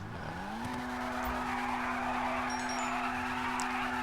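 A Brioso 300 wide car in GTA Online skids with a loud, sustained tire squeal over its steady engine drone, the screech holding a constant pitch for several seconds.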